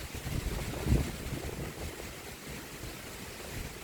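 Strong cold wind blowing across an open lake in hilly Saraburi, a steady broadband roar with one louder gust near the start, no voices.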